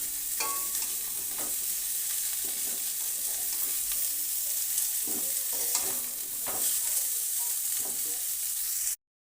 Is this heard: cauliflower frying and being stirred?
yes